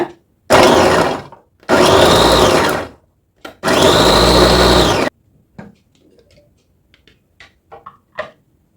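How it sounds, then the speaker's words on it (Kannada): Electric vegetable chopper motor on its first speed chopping carrots, running in three loud whirring bursts of about a second each, then leaving brief clicks and rattles of the bowl with no talk. "ನೋಡಿ ಫ್ರೆಂಡ್ಸ್, ಅಷ್ಟು ಮಾಡೋದ್ರಲ್ಲೇ ಕ್ಯಾರೆಟ್ ಇಷ್ಟೊಂದು ಚಾಪ್ ಆಗಿ ಆಯಿತು"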